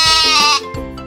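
A sheep gives one loud, close, quavering bleat that drops in pitch and fades toward the end.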